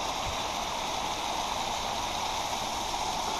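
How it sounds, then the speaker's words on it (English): Cascade Brook, a mountain stream with a small waterfall and swimming hole, rushes in a steady, full broadband wash that stays constant and close throughout, with no voices over it. "This is Cascade Brook. Very pretty. Awesome little swimming hole right there. Nice waterfall."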